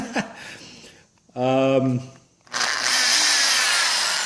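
Someone speaks briefly, then a roughly 30-year-old power drill fitted with a hole saw whirs up loudly and runs steadily at high speed, close by.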